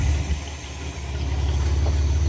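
A revived old demolition-derby car engine runs at a loud, steady idle, a close, rough low rumble with slight uneven knocking throughout.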